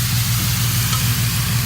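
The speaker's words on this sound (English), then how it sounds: "You can hear that sizzle over the dough that just came out of the oven." A loud, continuous sizzle as simple syrup is poured over Turkish nevzine pastry dough fresh from the oven, a steady hissing crackle over a low hum.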